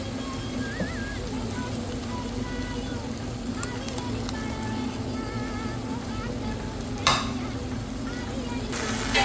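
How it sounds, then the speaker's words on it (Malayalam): Prawns are stirred and sizzle in a pan for a prawns roast, with a steady frying hiss, scraping spoon strokes and occasional clatters close by, while someone talks throughout. "നമ്മൾ പ്രോൺസ് എല്ലാം ചേർത്ത് നമുക്ക് നന്നായിട്ടൊന്ന് ഇളക്കി കൊടുക്കാം."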